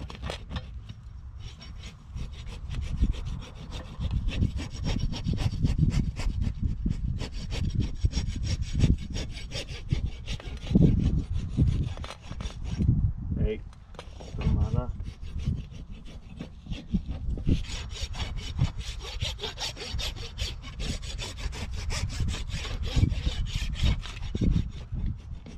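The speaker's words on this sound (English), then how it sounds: "I'm just like scratching it off to get all the mud out." Steady rasping scrapes as mud is scratched off a surface, close and continuous with short pauses, quiet and alone without talk.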